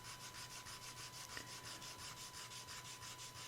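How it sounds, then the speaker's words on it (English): Steady rhythmic rasping of 80-grit sandpaper rubbed back and forth over wood, even strokes repeating about five times a second, close and quiet. "I ran through quite a bit of sandpaper at 80 grit on that to get it smooth."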